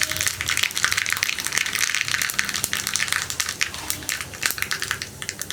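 Mustard seeds pop and crackle in hot coconut oil in a pan, a dense, continuous spatter of sharp little bursts running steadily for several seconds, close and busy with no voices.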